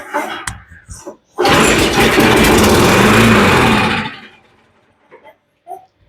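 A Troy-Bilt lawn mower primed with starter fluid catches after a pull, roaring loudly for about three seconds before sputtering out, with brief clatters and handling noises before and after.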